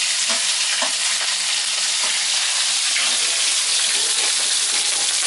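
Fish frying hard in a pan for khua pla daek, a Thai fermented fish dish, produces a loud, continuous hiss of oil with light clatter mixed in, close and unbroken.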